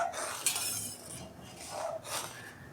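A spoon clinks and scrapes against a pot while milk is stirred and vinegar is added bit by bit to curdle it for rasgulla, a close, irregular clatter heard without talk.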